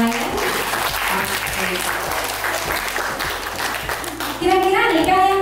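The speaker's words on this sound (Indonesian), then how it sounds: "Oke, tepuk tangan dong." A group of participants, including children, at a leadership workshop breaks into loud, continuous applause close by, and voices rise near the end.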